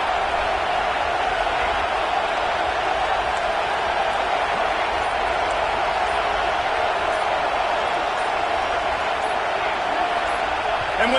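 Stadium crowd roaring in the College Football 25 video game, a dense, steady wall of loud cheering and noise that holds unbroken throughout, with a commentator's voice over it.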